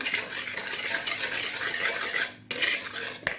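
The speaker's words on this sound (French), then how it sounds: "je prends le fouet et je mélange" Whisk mixing batter in a bowl for pastry, a continuous close scraping and swishing with a brief pause before stirring resumes.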